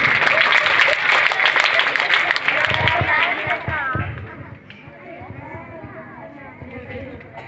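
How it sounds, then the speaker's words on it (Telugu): Children at a Christmas program magic show clap loudly and steadily as a crowd, the applause strongest at first and thinning out, with an adult voice speaking over it. "గట్టిగా యేసు గట్టిగా క్లాప్స్ కొట్టండి"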